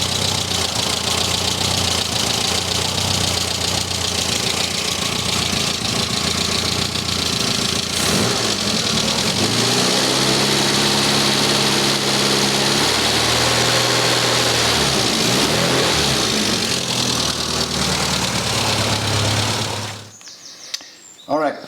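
A cold classic Mini engine runs steadily at idle throughout, a loud mid-pitched rumble with a brief change in tone partway through, then cuts out abruptly near the end.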